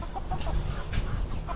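Backyard chickens cluck in short, close bursts over a low, steady background as they are being fed, with a few sharper clucks scattered through.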